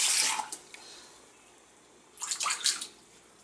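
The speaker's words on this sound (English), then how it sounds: "Now pour the lemon juice" Liquid poured into a homemade Middle Eastern hummus mixture during preparation, two short splashing pours separated by a quiet pause, close and fairly soft.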